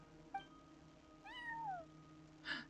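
A cat in a video game gives a clear rising-and-falling meow, preceded by a short chirp and followed by a brief, higher squeak, fairly close against a quiet humming background.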